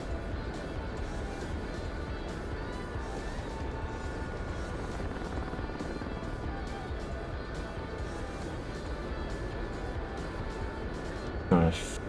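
A Gazelle helicopter in the flight simulator DCS World drones with a steady, continuous rotor and turbine hum, evenly loud from start to finish, with a brief thump near the end.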